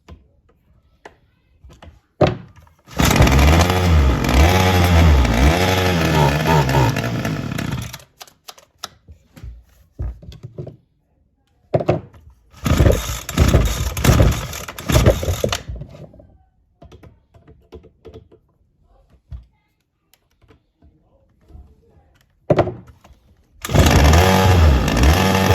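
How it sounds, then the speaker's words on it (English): A Ryobi SS30 string trimmer engine runs on choke, surging in loud bursts separated by quiet gaps, revving up and dying back several times. "it seems like it wants to run when it's in choke, so I might put it in choke and just see if it'll run, and it's definitely surging"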